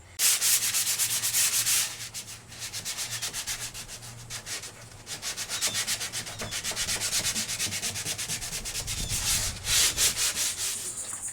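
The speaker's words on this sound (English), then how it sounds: "you got to go over everything real quick with about 120, 150 grit sandpaper" An antique wooden desk is hand sanded with 120 to 150 grit sandpaper between finish coats, giving close, continuous rhythmic rubbing strokes with short pauses, alone without talk.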